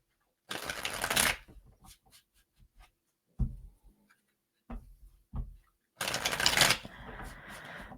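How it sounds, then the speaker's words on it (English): Tarot cards being shuffled by hand in two loud riffling bursts, separated by softer taps and card handling, recorded up close in a quiet room. "So I'm going to shuffle this a few more times."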